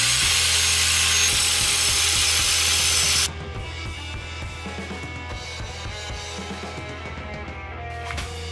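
Grinding or shaving a steel motor shaft on a dual-motor electric fatbike, a loud broadband power-tool whine for the first three seconds, then quieter mechanical clicks and workshop clatter.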